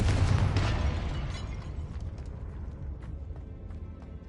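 A Confringo blasting spell explodes in Hogwarts Legacy, opening with a loud booming burst that rumbles and slowly decays into a crackling tail.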